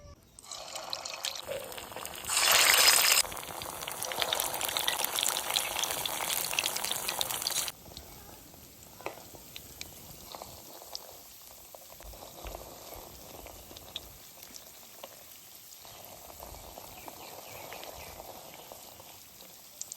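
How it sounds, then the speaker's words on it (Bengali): Balls of Maggi noodles and egg frying in hot oil, a steady bubbling sizzle with a louder hissing burst early on as food goes in, then settling into a softer continuous crackle. "তেল গরম হয়ে গেছে, এবার ম্যাগিটাকে ভেজে নেব।"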